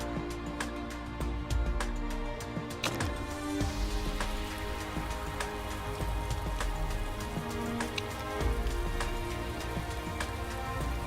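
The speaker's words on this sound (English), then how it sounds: "And we've got some heavy rain going on for practice." Heavy rain during a practice session in the Motorsport Manager racing game, a dense, steady patter of drops on a surface that continues without a break and with no voices.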